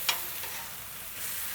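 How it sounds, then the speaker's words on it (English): A soft, steady sizzle of meat on a hot griddle, with a brief scrape near the start; no talking. "I can hear it sizzling a little bit."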